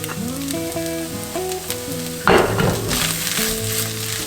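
Green peppers tipped into paneer in a hot pan: a sudden loud hiss midway that settles into steady sizzling, with background music running throughout.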